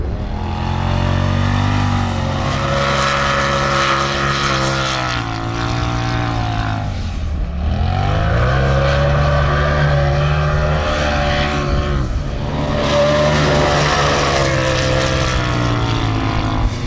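A 1300HP Polaris RZR engine roars loudly while dune riding, close up. The pitch rises and falls as the throttle is worked, with a deep revving dip midway before it winds back up.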